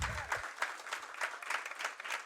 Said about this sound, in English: Can we give the researchers a round of applause?